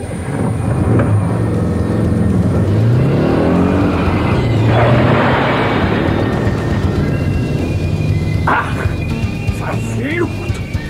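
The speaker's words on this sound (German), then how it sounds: "Michael fährt zu Benjamins Anwesen" A car engine revs and rises in pitch as the vehicle drives off, loud and close with busy background sound, a sound effect in a Knight Rider radio drama.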